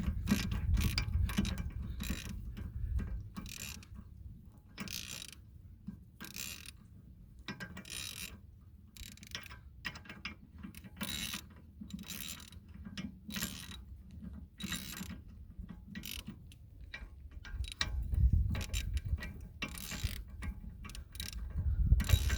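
A hand ratchet tightens 14 mm bolts on Rugged Ridge locking hubs fitted to a Nissan R50 QX4 axle. Rapid close clicking comes in repeated bursts with brief pauses between strokes throughout, with no talk.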